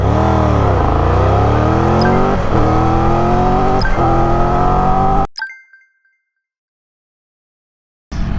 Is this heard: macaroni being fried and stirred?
no